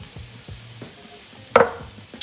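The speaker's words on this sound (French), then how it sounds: "On déglace avec un petit peu de vin blanc" Squid with chorizo fries quietly in a pan, a spoon taps a few times, and then white wine is poured in for deglazing, setting off a sudden loud hiss that quickly dies back down.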